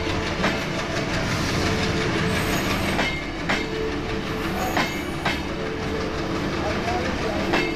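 A train running on rails, a steady loud rumble with rhythmic clickety-clack wheel beats on a journey from Dankuni station, continuous throughout with no voices.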